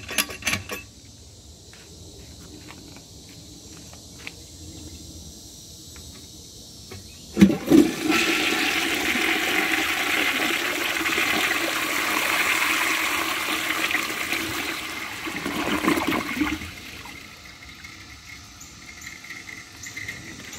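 A 1936 Standard Modernus toilet is flushed after a few quiet handle clicks, the rush of water swelling loud and near for about ten seconds before tapering into the refill trickle.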